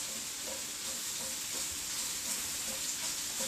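Pork and onions sautéing in a pan give a continuous, even sizzle and hiss, close and fairly loud, with faint stirring under it and no talking.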